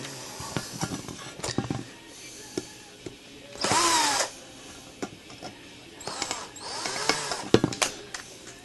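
Power drill fitted with a large bit boring holes in a stainless steel hobo stove, heard as short whirring bursts between clicks and handling noise, fairly close and moderately loud.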